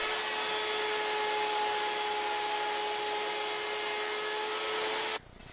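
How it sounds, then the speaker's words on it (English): A router with a 1/4 inch round-over bit shapes the bottom edges of wooden apron rails for a child's table. A loud, steady motor whine with a cutting hiss runs without a break, then stops abruptly just before the end. "Now routing the bottom edges of my apron rails with a 1/4 inch round over router bit."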